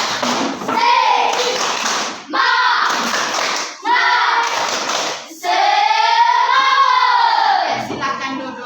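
A group of schoolchildren in an Indonesian classroom claps in a rhythmic spirit chant, loud bursts of clapping mixed with shouted voices, pausing briefly between phrases before a longer sustained chorus of voices.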